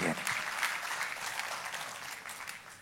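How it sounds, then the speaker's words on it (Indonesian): Congregation applause during a church sermon on fasting prayer, a dense wash of many hands clapping that starts strong and slowly tapers over about three seconds, with a faint voice underneath. "Tepuk tangannya yang meriah buat Tuhan."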